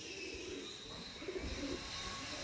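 A Chennai tournament pigeon, a Madrasi Kalodoma male, gives soft low coos that rise in a brief cluster midway, faint against a steady hiss of background noise.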